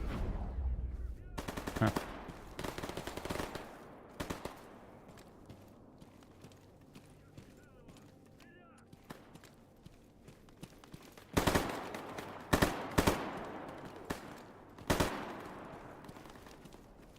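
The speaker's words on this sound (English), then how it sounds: "So much shooting." Bursts of automatic gunfire and single shots in STALKER Gamma crackle at a distance, quiet between clusters, with a few louder volleys near the end and a brief muttered voice.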